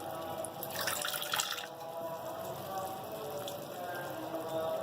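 A little water is poured into a bowl of spice mixture with salt and turmeric for shami kabab, a soft close trickle and splash that fades into quiet kitchen noise.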